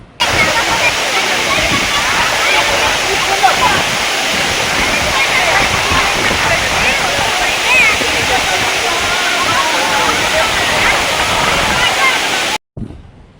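Penchalakona waterfall pours with a loud, steady roar of rushing water, close and continuous, with no pauses until it cuts off abruptly just before the end.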